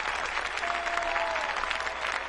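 Sustained applause from a large crowd at the 2008 US Nationals, filling an arena after an ice dance performance, with a faint tone drifting in the middle.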